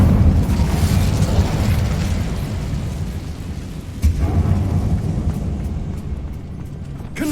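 A fire spell cast in the game Hogwarts Legacy inside an abandoned mine tomb: a loud, sustained rumbling roar of flame with a sharper burst near the middle, continuous throughout.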